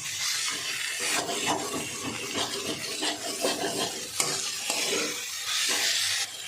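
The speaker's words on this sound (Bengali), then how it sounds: "সেই সিদ্ধ মোচাটাই দিয়েছি, দিয়ে এই মশলার সঙ্গে কষাচ্ছি" Boiled banana flower is stir-fried with spices in oil, a steady close sizzle broken by frequent scraping strokes of a spatula against the pan, with a few metallic clinks and no talking.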